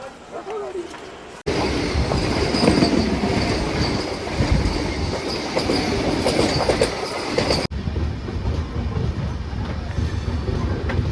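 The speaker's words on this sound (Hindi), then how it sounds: "ये देखिए ट्रेन चल पड़ी है" A Chhattisgarh Express train pulling out of Phagwara station platform, loud steady rumble of wheels and carriages with clattering and metallic squeal, close by, continuing for several seconds.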